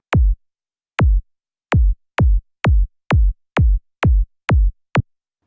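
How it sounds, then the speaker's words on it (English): A full-sounding EDM kick drum for a trance track thumps alone at a steady rate, about nine deep, punchy hits, each with a short decaying boom and a small gap in the pattern. "I'm using a quite full sounding kick for this track, and it sounds like this."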